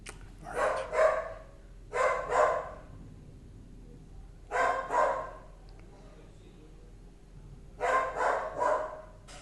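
A dog barks loudly and repeatedly in tight bursts of two or three barks, separated by short quiet gaps, over a low steady background hum.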